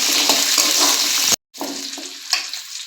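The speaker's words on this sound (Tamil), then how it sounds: "இப்போ நம்ம சின்ன வெங்காயம் சேர்த்துக்கலாம். ஒரு 1 நிமிஷம் மட்டும் இப்படி வதக்கி வைப்போம்." Shallots and dried red chillies fry in hot oil for sambar, a close, steady sizzle that cuts out for a moment and resumes with occasional stirring scrapes.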